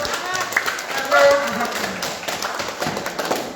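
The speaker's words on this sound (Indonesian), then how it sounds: "Mari kita beri tepuk tangan untuk" Audience applause at a school quiz competition for ninth-graders, a crowd of hands clapping in a steady patter with voices talking over it.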